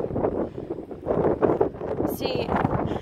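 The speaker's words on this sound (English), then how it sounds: "sorry, it's really windy, I don't know if you can hear me" Gusts of wind buffet the microphone in low rumbling bursts, mixed with muffled noise, while a brief high whine cuts in midway.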